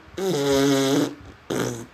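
A fart-like sound plays twice: a long, loud buzzing blurt of about a second, then after a short pause a briefer second burst, clear and close with no talk.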